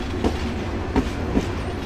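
A Kishoreganj Express train rumbles steadily as it draws to a stop away from the main platform at a railway station, with a few soft rhythmic wheel clunks standing out over the continuous low rolling noise.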